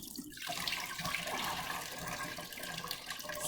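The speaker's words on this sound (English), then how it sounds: "So what you're doing is only rinsing off the dirt." Running water from a tap rinses dirt off freshly harvested herbs, a steady close splashing stream that fills the whole stretch without pause.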